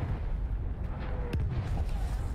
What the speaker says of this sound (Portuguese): As explosões estão altamente.